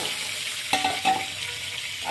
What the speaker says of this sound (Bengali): সবগুলো মাছ ছেড়ে দিলাম